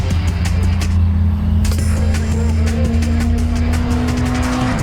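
Street-driven import cars, a Subaru WRX and a GSR, race with a loud, steady engine drone whose pitch climbs slowly under constant road and tire noise.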